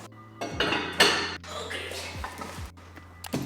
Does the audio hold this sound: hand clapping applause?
no